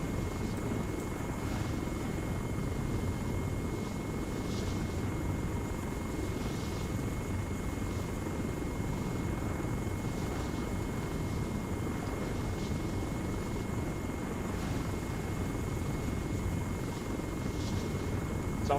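Little Bird helicopter circling a building in ARMA 3, its steady rotor thrum and engine drone loud and continuous throughout, with a faint periodic whine riding above the low churning roar.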